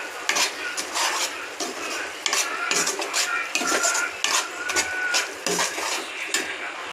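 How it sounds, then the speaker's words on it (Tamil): Spoon scraping and stirring chicken masala curry in a pan as the spice paste sautés, steady metallic clinks and scrapes over a soft frying sizzle, no voices. "மசாலா நல்லா வதங்கிச்சு, பச்சை வாசனை போகிற அளவுக்கு நல்லா வதங்கிச்சு"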